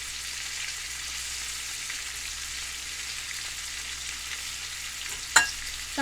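Chicken frying in a pan gives a steady, fairly quiet sizzle with no talk, broken near the end by a brief clatter of the meat being turned.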